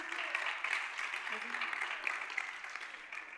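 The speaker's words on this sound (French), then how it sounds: "On applaudit très fort, public." A studio audience on a French television dating show applauds in a steady, dense wash of clapping that holds at an even level from start to finish, with no pause.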